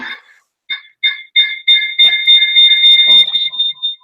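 A shrill electronic buzzer sounds in short repeated bursts, then a longer sustained tone, with a voice briefly mixed in.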